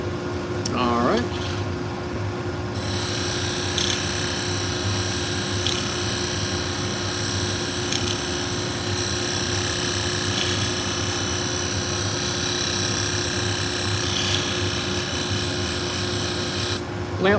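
Pet grooming shears are being sharpened, with the blade held in a clamp on a sharpening setup. A steady, continuous rasping grind runs close and loud for the whole stretch, with small shifts in pressure and no talk over it.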